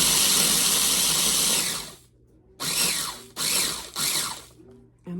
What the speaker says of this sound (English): I've got a little food processor here.